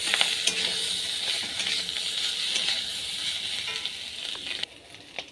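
Potatoes frying in a hot pan give off a steady, close sizzle with a few stirring scrapes and clicks, and it quiets abruptly near the end.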